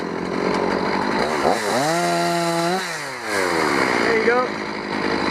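A chainsaw cuts a felled tree free of its stump in the woods, the engine roaring steadily up close with a rising and falling pitch as the blade works through, while someone speaks briefly over it.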